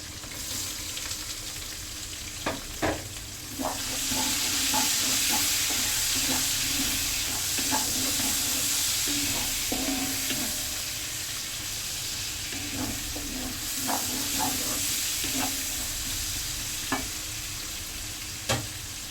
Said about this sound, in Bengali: এখন আমি পেঁয়াজ কুচিগুলো দিয়ে দেবো